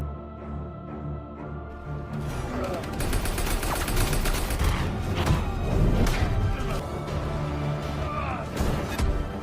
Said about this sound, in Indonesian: Tiba-tiba drum minyak di dalam kendaraan meledak